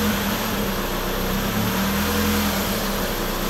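Toyota Celica ST205 GT4 with a BEAMS turbo engine idling as the cam timing is swung, giving a steady close engine hum with a drone that shifts in pitch through the run.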